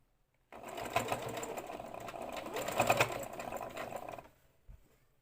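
A sewing machine runs close by in one steady whirring burst of about four seconds as it stitches fabric for a child's skirt under the presser foot, then stops with a soft thump.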